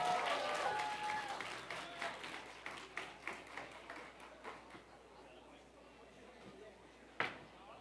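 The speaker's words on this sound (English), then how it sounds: "Let's give them a warm round of applause." A summit audience gives a warm round of applause that starts full and loud, then thins into scattered individual claps and fades away, with one sharp knock near the end.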